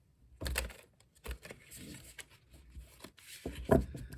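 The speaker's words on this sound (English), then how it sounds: "Some shuffling first, of course." Tarot cards are shuffled close up in soft, irregular riffles and taps, with a few sharper slaps of the deck, quiet and alone.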